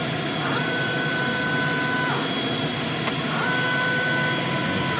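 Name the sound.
Calca DTF printer running daily cleaning cycle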